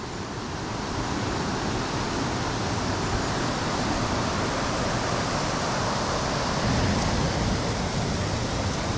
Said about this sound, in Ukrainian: А це вже водоспад Великий Гук.